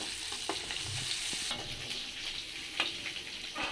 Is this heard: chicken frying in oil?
yes